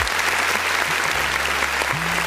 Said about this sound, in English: let's give a round of applause to that beat